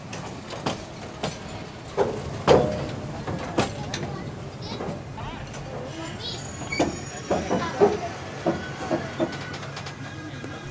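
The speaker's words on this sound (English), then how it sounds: "As YDM 4 number 6638, hauling train number 52964 from Khandwa, comes into Kalakund" YDM 4 diesel locomotive number 6638, an Indian metre-gauge engine, hauls a passenger train from Khandwa into Kalakund station, with rhythmic wheel clanks and rail knocks over a steady low rumble, and voices nearby.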